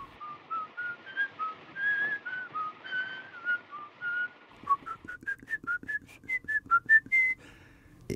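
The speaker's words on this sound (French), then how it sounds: "On entend son sifflement." A clear whistled melody, a single person whistling a wandering tune of separate notes, close and fairly quiet, with no other sounds.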